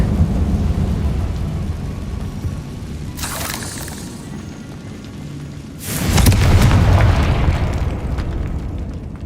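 Hogwarts Legacy spell explosions: two loud blasts a few seconds apart, each a sharp crack followed by a rumbling roar and debris, the second heavier and longer, over a low ambient hum.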